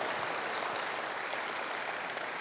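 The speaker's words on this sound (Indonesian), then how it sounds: "Tepuk tangannya boleh yang paling meriah buat Tuhan kita" Brief burst of dense, lively applause from a congregation during a church service, steady clapping of many hands with no talking over it.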